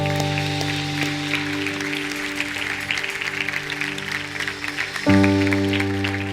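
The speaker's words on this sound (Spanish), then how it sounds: "Denles un aplauso." A church congregation claps in a dense, continuous patter beneath sustained keyboard chords, and the chords swell louder near the end.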